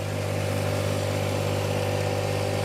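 A tractor engine drones steadily at a high, constant throttle while agitating a sprayer tank, with a loud unbroken mechanical hum and no pauses.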